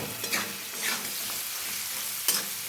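Ginger and chana dal are stir-fried in a pan, giving a close, steady sizzle broken by spatula scrapes and a sharp clink near the end, with no talking.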